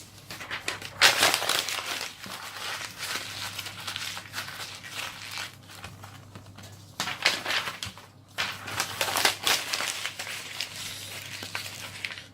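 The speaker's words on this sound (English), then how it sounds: "let's get 3 bits of paper, screw them up into a ball." Sheets of paper being crumpled and squeezed tightly into balls by hand, close crinkling in bursts with short pauses between them.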